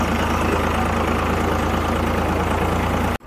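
A tractor engine runs steadily in a farm field, a loud, close, continuous low throbbing drone with a regular pulse that cuts off abruptly just before the end.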